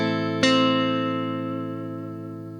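A single unbent minor-third note on electric guitar in a minor blues context, struck cleanly with light distortion and sustaining evenly as it fades, with no other sounds.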